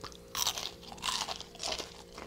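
Three crisp crunching bites into an air-fried mozzarella stick with a smoky cheese filling, each a close, bright burst of crackling breading spaced about half a second apart, with no talking.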